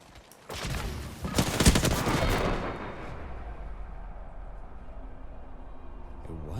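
Loud, booming sniper rifle fire in Apex Legends, a cluster of heavy shots and impacts that rings out and decays into a low rumbling tail.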